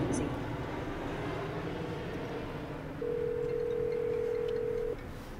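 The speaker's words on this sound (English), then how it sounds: "Okay, and that's how you make a phone call." A ringing tone plays through the infotainment system of a 2018 Mazda 6 Signature as a phone call is placed, a steady electronic tone for about two seconds over cabin hum and a voice.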